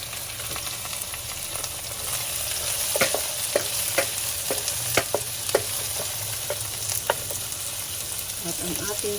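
Onions sauté in a pan of chayote and shrimp, hissing steadily while a utensil knocks and scrapes against the pan in irregular, close taps; no one speaks.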